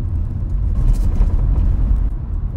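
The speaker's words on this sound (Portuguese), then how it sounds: "Ó, o barulho no porta-malas, não sei se deu para ouvir" Noise from the trunk of a Volkswagen Polo or Virtus car, heard as a low rumbling drone from inside the moving car with a faint rattle above, continuous and without talk.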